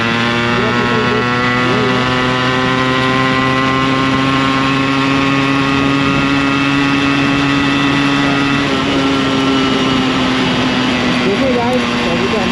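A Yamaha RX 100 motorcycle with its stock exhaust runs loud and close, its buzzing engine tone holding steady with slight rises and falls in pitch throughout, while a voice talks over it.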